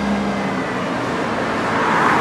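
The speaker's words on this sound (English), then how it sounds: "As you can see there's a bus coming in there." Bus pulling in on a road near Elmore Park, Rugeley, heard as a loud, continuous engine and traffic roar close by throughout.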